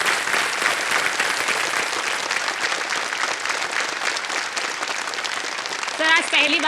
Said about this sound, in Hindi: ताली बजते रहे उनके लिए।